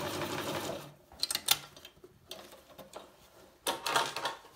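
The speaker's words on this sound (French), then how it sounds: "pour ne pas casser l'aiguille et pour que ça fasse pas mal à votre machine à coudre" A domestic sewing machine stitches the seam of a foldable reusable tote bag, fairly quiet bursts of rapid mechanical chatter with short pauses between runs of stitching.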